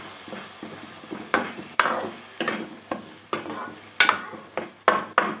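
A spoon stirs tomato paste into a cooking masala for a soya kabab curry in a pot, making repeated scraping strokes in a steady rhythm over a soft sizzle, close and alone.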